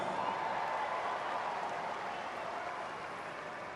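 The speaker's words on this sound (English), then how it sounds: "Will you please give Justin Brayton a big round of applause?" Crowd applauding for motocross rider Justin Brayton at the S-X Open supercross event in Auckland: a steady, dense wash of clapping that fades slightly toward the end, with no voices on top.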